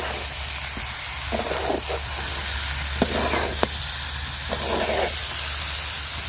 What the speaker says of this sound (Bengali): মাংসটা দিয়ে আরেকটু কষায় নিব।